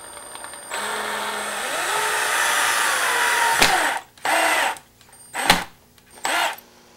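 A power drill drives two countersunk screws into a wooden tenon jig for a crosscut sled, first a long steady whir that rises in pitch, then several short bursts of drilling.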